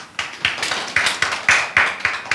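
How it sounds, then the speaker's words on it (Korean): Church congregation applause at a Sunday service, with a burst of uneven, fairly close clapping heard alone without talk. "박수 한번 주세요."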